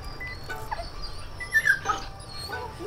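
A mother dog with her litter of eight puppies gives soft, high whimpers and yips in a few short bursts over quiet room background, with the dogs close by.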